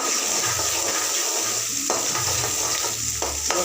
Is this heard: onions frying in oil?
yes